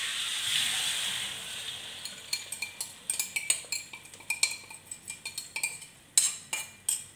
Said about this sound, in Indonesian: Sekarang kita mau menggoreng telur dadar kecapnya.